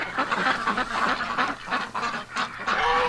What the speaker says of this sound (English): Oh, Muscovies, you came out.